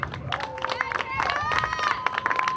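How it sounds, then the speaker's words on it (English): Audience applause and cheering for a softball player being honored at a Spring Arbor at Taylor doubleheader, dense steady clapping with a few whoops, heard alongside crowd chatter. "Give a round of applause for Tara Tucker."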